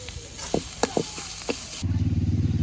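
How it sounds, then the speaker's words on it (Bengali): Onions and green chilies fry in a pan with a continuous sizzle and a few sharp clinks of stirring, then a low pulsing mechanical rumble takes over near the end; no talking. "পেঁয়াজ কাঁচা মরিচ খুব ভালোভাবে বেজে নিচ্ছি"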